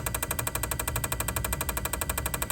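A 1998 Mitsubishi Galant with a five-speed gearbox idles steadily, its engine giving a fast, even pulsing rhythm that holds loud and close throughout with no voices.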